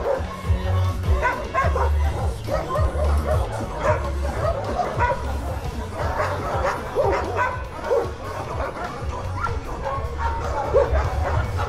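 Many dogs barking and yipping at once at an animal shelter housing over 200 dogs, a continuous noisy chorus of overlapping barks and whimpers, with people talking faintly among them.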